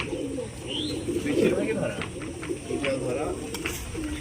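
Native domestic pigeons cooing in a loft, soft repeated low coos layered together close by, with occasional chirps and faint background voices.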